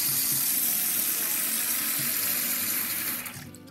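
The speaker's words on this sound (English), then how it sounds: "What you guys first want to do is you want to turn your water on." A bathroom water tap runs into a sink, producing a loud, steady gushing splash with a slight room echo that cuts off near the end.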